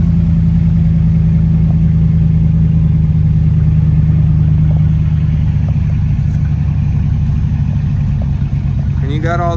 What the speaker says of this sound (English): Race truck.